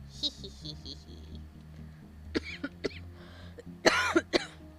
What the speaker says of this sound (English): Sorry, getting over a cough.